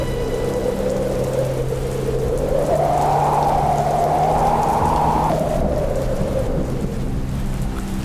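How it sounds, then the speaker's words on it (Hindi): Heavy rain pours down in a dense, steady roar, with a low rumbling swell rising and falling through the middle. "तभी तेज बारिश का झोंका आता है"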